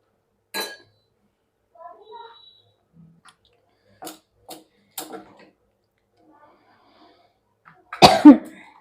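A person with an itchy throat coughs near the microphone while rolling out flatbread with oil in a home kitchen. One short cough opens the clip and a louder cough comes near the end, with scattered quiet clinks of utensils between them.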